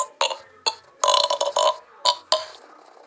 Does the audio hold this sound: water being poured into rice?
no